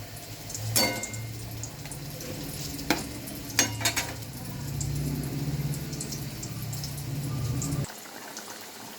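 Prawns and a green chili simmering in boiling water for a yogurt prawn curry, with steady low bubbling and a few sharp clinks of a spoon against the pan, then a sudden cutoff near the end.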